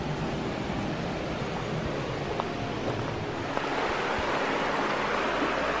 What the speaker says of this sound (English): This is the mountain river.